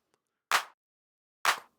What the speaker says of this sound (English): I rigged up some claps on the 2s and the 4s